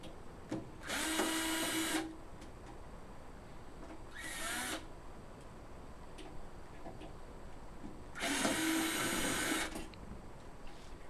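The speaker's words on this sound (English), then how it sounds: "turn the kiln sideways to remove the bottom screws that hold the back panel" A power drill backs out the bottom screws holding the back panel of a Paragon SC-series kiln, running in three separate whirring bursts with a shorter middle one and quiet pauses between.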